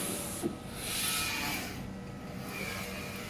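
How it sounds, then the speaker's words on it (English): A DTF printer runs a two-pass print of a vertical print-head calibration test pattern, giving a soft, continuous mechanical whir and hiss with a faint click near the start, heard close and alone. "Then the print starts to print the test print picture."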